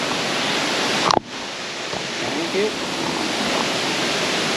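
Sungai Pandan waterfall in Kuantan, Pahang, Malaysia pours with a constant, dense roar of rushing water close by, briefly broken by a short spoken phrase near the start.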